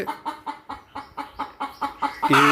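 Country hens clucking in a steady, evenly spaced series of about ten close, clear clucks, ending in a louder, rising squawk.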